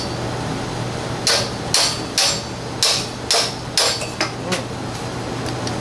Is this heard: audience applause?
no